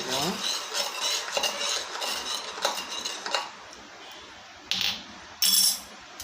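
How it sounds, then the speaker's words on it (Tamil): A metal spoon scrapes and clinks around a pot of boiling water in quick stirring strokes as salt is mixed in, followed by a few sharper clanks against the rim. "உப்பு போட்டு கொஞ்சம் நல்லா கலக்கி"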